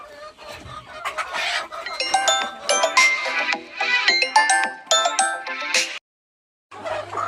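Free-range desi hens in a shed of about 150 birds cluck while eating black soldier fly larvae, with busy overlapping calls in steady bursts that stop briefly near the end.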